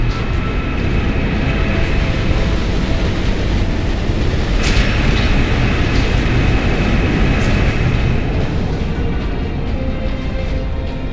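An armored train fitted with turrets in Warhammer 40K Space Marine rumbles along steadily, with a loud, constant heavy mechanical roar and a brief sharp metallic clank in the middle.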